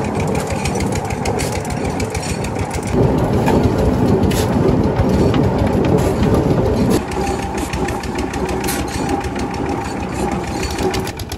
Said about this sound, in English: Powered by the roaring diesel engine, the cylinder rotates at frightening speed